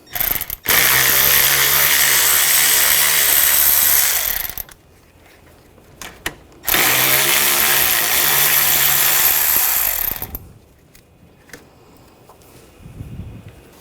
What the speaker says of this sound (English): Now we're going to take these two bolts out. Use a 10mm socket.